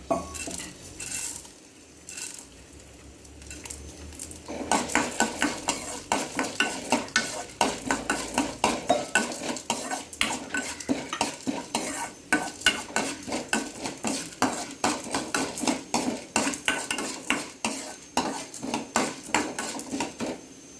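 Chana dal and urad dal roast in oil in a pan with banana flower. A spoon scrapes and clatters against the pan in quick repeated strokes over a continuous low sizzle.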